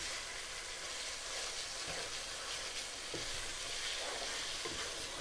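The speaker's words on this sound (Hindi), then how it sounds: "थोड़ा कीमे की अच्छे से इसमें भुनाई करेंगे" Minced mutton keema sizzles and fries in a pan, a steady crackling hiss with a few soft scrapes of stirring, fairly quiet and without any voices.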